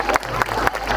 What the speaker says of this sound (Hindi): तो आप इसके लिए तालियां बजाएं।